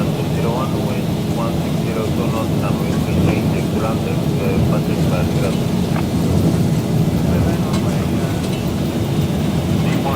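Boeing 737 engines at takeoff thrust in the X-Plane flight simulator give a loud, steady broadband roar that fills the whole stretch without letup.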